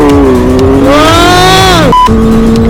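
A Yamaha Aerox scooter fitted with a swapped Honda CB400 engine revs high and loud, its pitch climbing steadily before dropping sharply, then settling into a steady drone.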